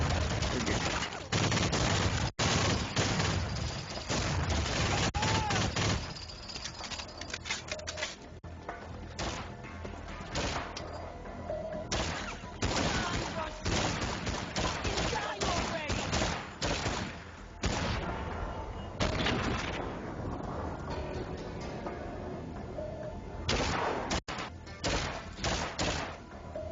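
Gunfire in the video game Max Payne 2, dense bursts of shots and crackling game noise filling the whole stretch at steady loudness, with scattered sharp peaks and a voice talking faintly beneath.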